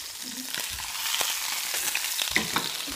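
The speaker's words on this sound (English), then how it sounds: "we've just got sausages on at the moment to go in our rolls" Sausages sizzle and crackle steadily in a hot pan, close up, with occasional light pops and a soft stirring scrape.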